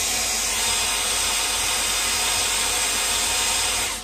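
A hair dryer blows steadily to dry alcohol ink on a flower painting, a loud close continuous whooshing roar that runs alone and cuts off at the end.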